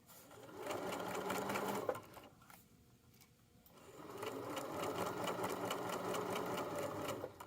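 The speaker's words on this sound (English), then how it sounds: "so I'll sew to the very end, and then I'm going to hit my reverse button" An electric sewing machine stitches fabric for a coin pouch in two steady runs of rapid needle chatter, pausing briefly in between, heard close and alone.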